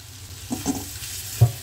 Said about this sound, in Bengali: এবারে আমরা ভাজা আলুটা ছেড়ে দিচ্ছি।